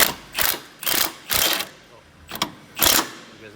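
A ratchet wrench works a stripped bolt on an R34 Nissan Skyline during a parts build, giving five close, loud bursts of rapid clicking separated by short pauses.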